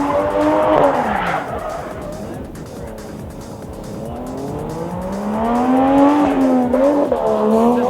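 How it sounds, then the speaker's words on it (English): A 1989 Nissan 240SX drift car spins out, its tires squealing and skidding loudly and continuously with wavering pitch while the engine note rises and falls, close and with no talking. "he spins out"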